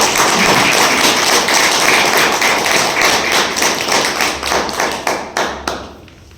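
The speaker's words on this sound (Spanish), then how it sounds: "Un aplauso para él." Dense, loud applause fills a lecture hall in the former Franciscan convent of Tecamachalco, a wall of many hands clapping that thins into scattered claps and fades out.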